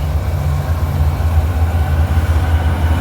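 A freight train led by three ES44AH locomotives rolls by close and loud, a deep steady rumble with no talking.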